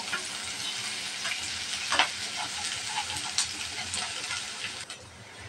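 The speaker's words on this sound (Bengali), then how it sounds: "এখন দিয়ে দেব মরিচ কুচি আর পেঁয়াজ কুচি। আসসালামু আলাইকুম গাইস, আপনারা সবাই কেমন আছেন? পেঁয়াজটা ভালোভাবে ভেজে নেব।" Chopped onion and green chili frying in a pan, a dense continuous sizzle with occasional stirring scrapes, close and fairly loud throughout.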